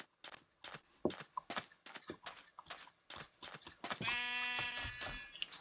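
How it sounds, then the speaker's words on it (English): Sheep in Minecraft let out a series of short, repeated bleats in an uneven rhythm at close range, with a longer, wavering bleat near the end and no talking. "sheep!"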